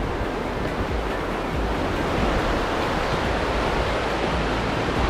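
The flowing Kern River along the High Sierra Trail, a steady loud rushing of water that fills the clip with constant broadband noise and no talk.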